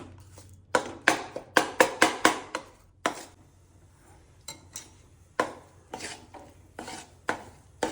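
Jaggery being mashed and stirred in a pan as it melts for Uttarayan singpak (peanut chikki), heard as a run of close, sharp scraping and tapping strokes against the pan in quick bursts with brief pauses, no talking.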